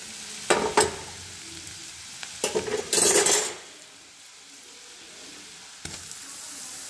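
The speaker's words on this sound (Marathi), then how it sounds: "आता हे तुपात चांगलं भाजून घेते" Grated carrots roasting in ghee in a kadhai: a soft background sizzle broken by three loud bursts of spatula scraping and stirring, the longest about a second.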